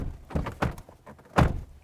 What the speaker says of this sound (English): Door sounds good.